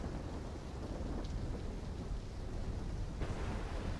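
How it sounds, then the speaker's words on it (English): Rain pours steadily with low rolling thunder throughout a storm in the Black Ops 3 game campaign, a dense, continuous wash of noise with no voices. "trying to grab everything they can before the worst of the storm hits"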